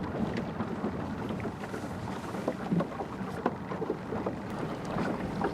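A boat cruising along on water during a southeast Alaska brown bear hunt, a steady low rumbling drone with water noise and scattered knocks, continuous and fairly even throughout, no speech.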